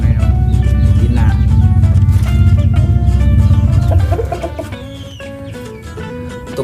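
Chickens cluck and a rooster calls close by in a backyard coop kept in a housing complex, with busy overlapping bird calls that grow quieter toward the end.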